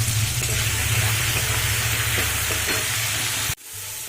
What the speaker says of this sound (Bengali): তেলটা গরম হয়ে এসছে, এবার আমি আলুটা ভেজে নেব